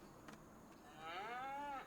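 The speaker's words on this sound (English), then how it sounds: "how are the cows doing?" Cattle in a farming video game give a drawn-out moo in the second half, preceded by a few soft ticks, fairly quiet with no talking.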